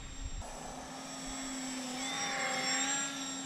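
A small homemade twin-rotor RC gyrocopter driven by a little race drone motor flies outdoors on a breezy day, giving a steady high electric whine with a faint buzzing hum that rises slightly, no talk.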